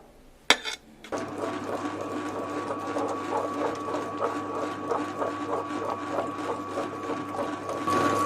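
A wet grinder grinds unniyappam batter with chopped banana pieces, giving a steady, continuous whirring drone with faint rhythmic knocking that starts after a brief clatter and runs unbroken to the end.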